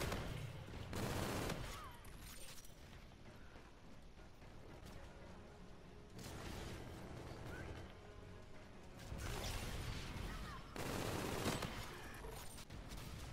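Gunfire in a video game, several separate loud volleys spaced a few seconds apart, each a broad sharp blast standing out against a low mechanical background.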